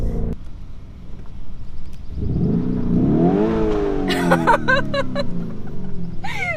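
A Lamborghini Urus engine accelerates hard, its roar climbing steadily in pitch through the rev range, close and loud, followed by a few sharp higher bursts as it carries on.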